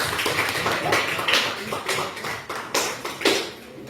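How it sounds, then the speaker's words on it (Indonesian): Applause for a student group in a classroom session, a mid-sized crowd clapping in uneven bursts that swell and fade over about four seconds, fairly close, with no talking. "kita berikan aplaus dulu untuk kelompok B"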